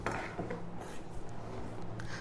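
Silk saree blouse fabric cut with scissors, quiet close snipping and rubbing of cloth in short irregular strokes, no voices.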